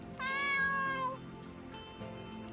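A cartoon cat character in the video game Heroines of Swords & Spells lets out one drawn-out, rising meow, followed by a quieter tonal trail, with no talking over it.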